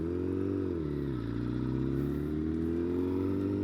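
A motorcycle engine drones steadily at low revs while the bike is ridden on its rear wheel, with a slight dip and rise in pitch, close and continuous without speech.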